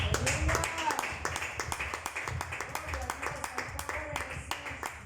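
Church congregation clapping in steady rhythmic time for several seconds, a full room of hands beating together while a preacher's voice carries faintly underneath.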